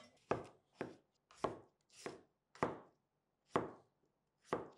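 Potatoes cut with a kitchen knife on a board, seven crisp chopping strikes at a slightly uneven pace, close and distinct with silence in between.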